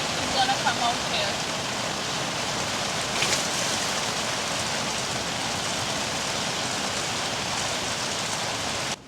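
Water gushes out heavily on a rainy day at a seaside campsite, a loud, continuous broadband rush like a stream or downpour that holds steady and close throughout.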